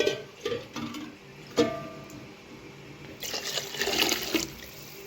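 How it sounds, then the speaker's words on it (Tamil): Water is poured into a cooking pot while making vegetable biryani, a soft splashing stream that grows louder and fuller in the second half, with a few clinks from the vessel earlier. "இப்போ தண்ணி சேர்த்துக்கலாம் ஒரு டம்ளருக்கு ரெண்டு டம்ளர் தண்ணி சேர்த்துக்கலாம்"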